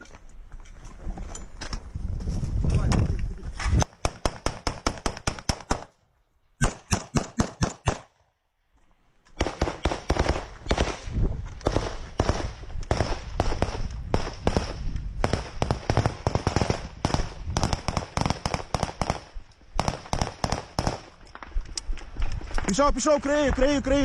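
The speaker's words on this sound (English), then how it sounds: "The round then explodes down the way." Gunfire and a round exploding in frontline combat footage from the war in Ukraine, with repeated sharp reports and a muffled distant blast under steady narration.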